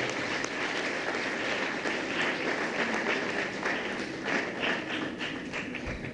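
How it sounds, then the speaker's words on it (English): A crowd claps steadily and loudly, a dense wash of applause that holds for several seconds with no voices standing out. "I think that deserves a round of applause."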